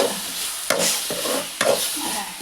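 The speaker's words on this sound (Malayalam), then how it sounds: "കൂടെ കൂടെ ഇളക്കി കൊടുത്താൽ നോക്കി നിൽക്കണം ഉള്ളി വാടി വരുന്നുണ്ട്" Sliced onions sizzle steadily in hot oil in a pan while a spoon stirs them, with two distinct scraping strokes cutting through the continuous frying hiss.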